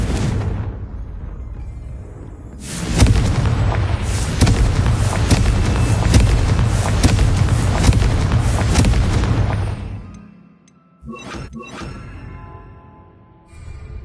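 Confringo blasting spell detonating in the video game Hogwarts Legacy, a loud rumbling burst that swells after a quieter lead-in and roars for several seconds before fading, followed by lighter crackling impacts.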